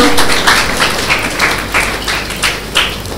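An audience at a Telugu Ugadi panchangam reading claps together in rhythmic bursts, a loud, close, steady patter of applause in roughly even beats with no talking.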